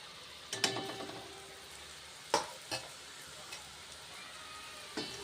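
Pieces of sweet maida biscuit dough are fried in oil, with a faint, constant sizzle and a few sharp clinks and scrapes spaced out over a few seconds.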